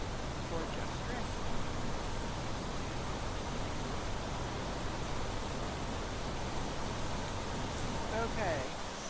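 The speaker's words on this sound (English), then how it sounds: "I hope it's just rain." Steady, dense hiss of rain in the Planet Crafter video game, falling evenly and unbroken throughout, with no talk.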